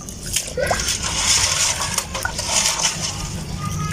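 Water poured through a mass of crushed eggshells being rinsed, a steady, close splashing trickle with faint crackle that runs on without a break.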